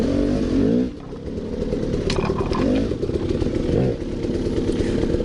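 Motorcycle picking its way slowly through a ravine on a hard enduro ride, the engine rising and falling in short revving bursts with clattering, under steady close engine noise.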